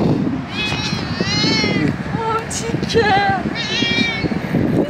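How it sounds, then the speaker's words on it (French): A cat meows repeatedly in odd, drawn-out rising and falling calls, close by, with someone speaking French over and between the meows. "Il miaule trop bizarrement!"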